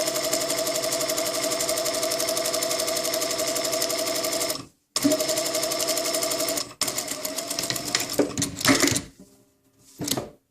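A sewing machine stitches a shirt placket in long, fast, steady mechanical runs, close and loud, broken by short pauses and a few clunks of handling near the end.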